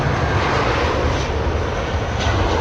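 A jet airliner rolls into its takeoff at London Heathrow Airport, a steady, loud engine roar holding broadband and low rumble without a break, no voices over it.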